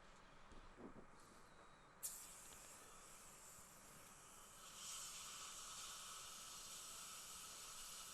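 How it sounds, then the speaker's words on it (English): Water from a faint, steady hissing stream rinses a metal dental implant part, the flow shifting and brightening partway through, with no voices. "So now it's time to rinse it off."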